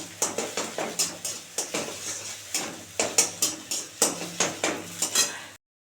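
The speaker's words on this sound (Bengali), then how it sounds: "এবারে ভালো করে ডিমটা ভেজে নেব।" An egg fries in a pan with a little salt, with a steady rhythm of about a dozen close scraping and stirring strokes over a light sizzle, and no talking.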